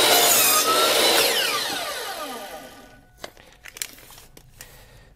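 A saw cuts through wood at a 20-degree angle while building a birdhouse, making a close, loud rasping stroke that fades gradually, followed by a few sharp knocks and clicks.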